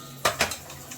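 A metal tiffin box lid is pressed shut over hilsa fish prepared for steaming, two quick close clanks followed by a lighter tap.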